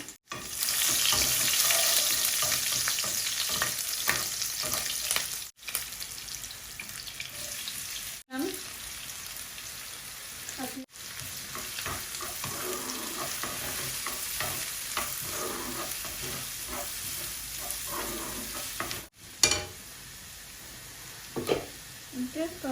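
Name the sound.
garlic and chilies frying in pan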